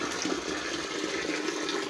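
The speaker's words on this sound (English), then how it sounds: "water will be entering inside the pond, and then water will be going out" Water flowing steadily into a catfish pond stocked with fingerlings, a continuous close rushing and splashing stream with no pauses and no voices.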